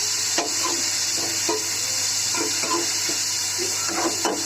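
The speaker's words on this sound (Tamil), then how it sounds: "இப்போ நான் ஒரே ஒரு தக்காளி கட் பண்ணி வச்சுருக்கேன், போட்டுக்கிறேன்." Tomato sautéing with onions for an egg curry, a soft steady sizzle under a constant hum, with light spoon scrapes and taps against the pan.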